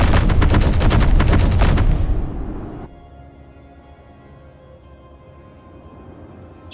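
An autocannon fires a rapid, loud burst of shots in the Space Engineers video game, followed by a fading rumble and a low, lingering hum.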